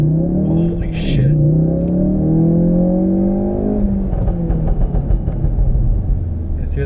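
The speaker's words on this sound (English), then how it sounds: "You guys hear the burbles?" Exhaust burbles and pops from a tuned Ford Focus RS after a hard third-gear pull, a falling engine note with crackling bursts close to the car, with voices in the cabin.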